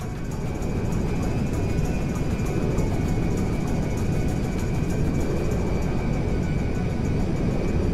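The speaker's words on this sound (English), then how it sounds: "We are now landing at McKenzie Field." Merryweather jet landing at McKenzie Field in GTA 5: a continuous, loud, steady jet engine roar with a high whine, droning evenly throughout without any break.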